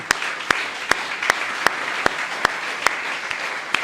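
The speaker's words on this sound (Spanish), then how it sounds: "Fuerte aplauso para el Rey." A church congregation applauding together during a sermon, steady dense clapping with sharp rhythmic accents about twice per second, loud and close.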